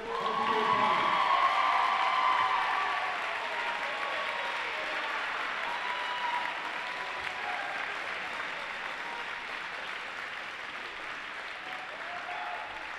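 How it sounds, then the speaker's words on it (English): Crowd applause fills a gym at a high school girls' and boys' basketball double header, loudest in the first two seconds and then holding as steady, sustained clapping from the stands for about thirteen seconds. "How about one more collective round of applause for 2 special young women and 1 basketball player."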